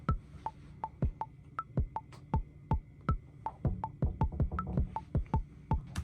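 A steady programmed drum beat of punchy kick thumps and crisp hits in an even rhythm, with no voices.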